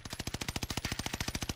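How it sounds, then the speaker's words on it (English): Rapid automatic gunfire in a first-person shooter video game, about fourteen evenly spaced shots per second in a sustained, close, loud burst with no talk over it. "Taking shots over here."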